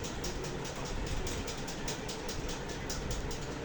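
Passenger train in motion heard from inside a carriage on the line toward Faridpur in Bangladesh, a steady loud rumble with faint rhythmic clatter of wheels, no speech.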